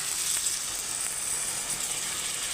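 A steady hiss and sizzle rises from a hot pan of fish curry with potatoes as water is poured in, filling the short stretch without pause and heard close up.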